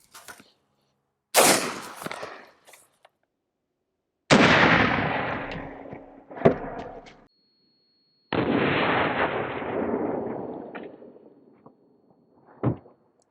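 Three sharp, loud rifle shots of M193 ammunition from a 16-inch Palmetto State Armory upper at an armor plate about 15 yards downrange, each a hard crack followed by a long rolling echo, with a smaller pop near the end.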